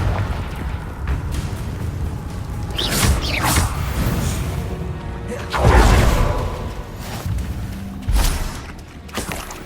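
Fiery Confringo blast spells cast in the Hogwarts Legacy video game go off as several loud, booming bursts a few seconds apart over a steady rumbling game background.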